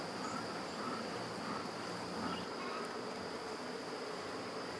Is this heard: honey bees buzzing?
yes